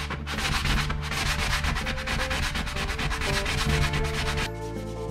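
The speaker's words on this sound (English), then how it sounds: "Let's see if I can sand this thing away." Steady, loud sanding of paint on a garage surface, continuous rhythmic rubbing strokes close to the microphone that stop abruptly near the end.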